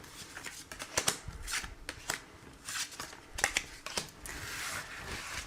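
A deck of tarot cards is shuffled by hand for a reading, with a quiet series of riffling slaps and soft papery flicks in an otherwise hushed room.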